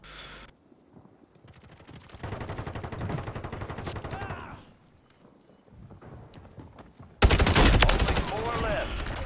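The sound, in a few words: gunfire from a video game shooter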